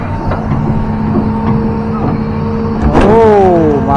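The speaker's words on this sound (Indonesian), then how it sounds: "Ini di sini dimuat lagi ke truk." An excavator at a river dredging site near a cemetery loads soil onto a truck. Its loud, steady diesel drone carries throughout, then a rising hydraulic whine and clunk swell as the bucket works.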